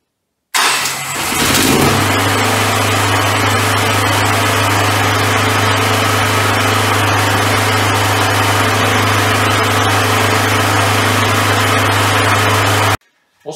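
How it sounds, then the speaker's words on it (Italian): An engine cranks briefly and catches, then settles into a loud, steady idle hum that runs for about eleven seconds before cutting off abruptly. "il motore si è acceso all'istante"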